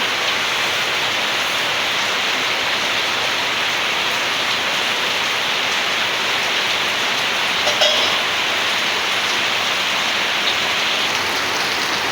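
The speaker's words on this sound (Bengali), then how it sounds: "বৃষ্টি কিন্তু অনর্গল পড়তেই আছে প্রচণ্ড বৃষ্টি" Heavy rain pouring steadily in a village, a dense continuous hiss with close pattering on surfaces and no letup over several seconds, with one brief faint knock partway through.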